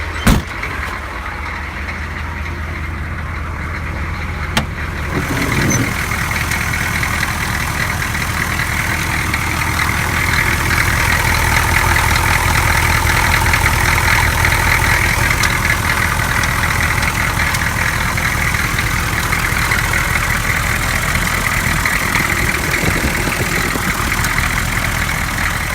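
A Chevy one-ton dump truck with a 6.2L engine cranks, catches and settles into a loud, steady idle with a rough diesel-like knock, running continuously after a quiet start.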